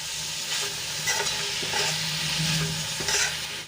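Radish greens cook with spices in a pan over a low flame, a steady soft sizzle broken by repeated scraping stirs of a spoon, close and alone with no talk.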